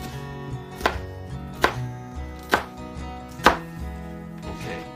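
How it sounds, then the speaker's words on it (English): A knife slices through vegetables on a cutting board in a home kitchen, making four distinct chopping thuds at a slow, even pace, close and clear with no talk. "Be sure not to cut your fingers when you're slicing."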